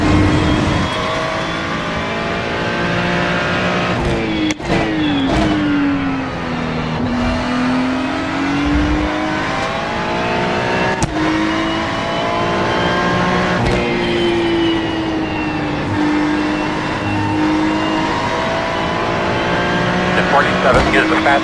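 A GT3 race car in the iRacing sim at Road America, its engine droning loud and continuous with rising and falling pitch as it accelerates and shifts through gears, with a voice talking over it.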